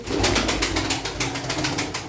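Tumbler pigeons, a grey male among them, coo steadily from a loft, a soft continuous murmur with faint wing flutters and no talk over it.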